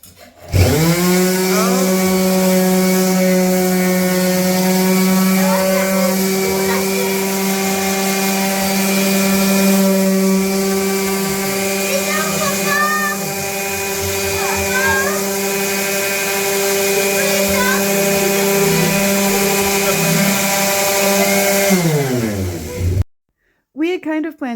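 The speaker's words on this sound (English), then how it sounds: "finish scraping up the rest of this glued down carpet" A power tool whines steadily and loudly for over twenty seconds while scraping up glued-down carpet in a hallway renovation. The pitch dips and wavers as it bites, then it cuts off abruptly.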